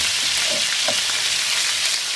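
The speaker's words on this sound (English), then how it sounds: "stir the chicken. Because we want it to be really nice and golden brown." Chicken pieces sizzle in hot oil in a pan, a steady close frying hiss with a couple of soft scrapes as they are stirred, no voices.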